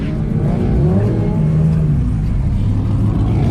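A drift car's engine revs hard and steadily on a racing circuit, a loud, close, continuous roar with shifting pitch and no talk over it.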